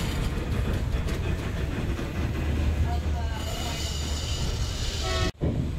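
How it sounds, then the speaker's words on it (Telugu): A train reversing slowly to couple onto another train, with a steady low rumble of wheels and cars close by, squealing wheel tones rising, and a brief cutoff near the end. "ఇప్పుడు ఈ ట్రైన్ వెళ్ళి ఆ ట్రైన్ అటాచ్ అవ్వాలి కాబట్టి రివర్స్లో వెళ్తుందండి"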